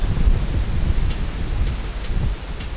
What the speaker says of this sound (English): I know it's super windy